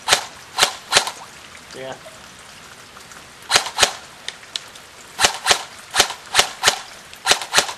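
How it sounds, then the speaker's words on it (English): Airsoft rifle fed from an A10 magazine shooting downrange outdoors: sharp snapping shots, singly and in quick pairs, then a run of about ten fairly regular shots, close and loud, with a brief spoken word. "And shoot a couple of rounds downrange there."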